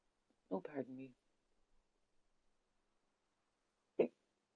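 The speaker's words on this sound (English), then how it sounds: "I think it's giving me the hiccups." A single short hiccup, sharp and close, comes after a brief voiced sound from a person early on; the rest is near silence.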